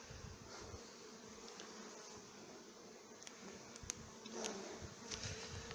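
Honeybees buzz steadily as a newly combined colony settles into its hive, a dense, continuous droning hum with faint higher wingbeat whines passing close by now and then, no voices present.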